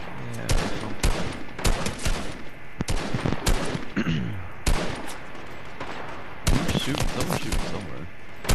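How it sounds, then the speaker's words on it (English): Gunfire in a video game rings out in sharp, loud bursts of rapid automatic shots, repeating in clusters with brief gaps while a player talks quietly in between. "Someone's shooting somewhere"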